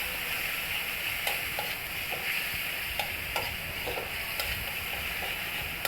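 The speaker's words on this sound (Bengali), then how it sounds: "এবার আমি মশলাটাকে ভালো মতো তেলের সাথে মিশিয়ে নেব।" Spice paste with salt being stirred and fried in hot oil for a fish curry, a steady sizzling hiss with intermittent soft scraping taps of the spoon against the pan, close and continuous throughout.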